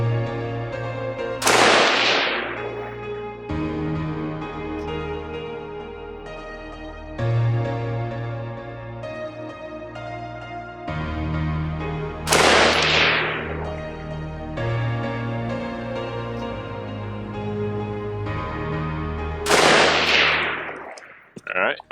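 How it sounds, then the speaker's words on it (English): Faxon ARAK-21 5.56 rifle fired at an outdoor range at 100 yards: three loud, sharp single shots spaced several seconds apart, each ringing out with a decaying echo, over a steady background hum. "Enough gabbing, more shooting."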